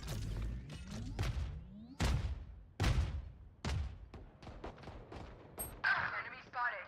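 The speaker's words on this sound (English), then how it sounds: "All missiles away." Missiles launched in a video game: a rapid series of loud, close booming blasts with whooshing tails, ending in a harsh hissing burst.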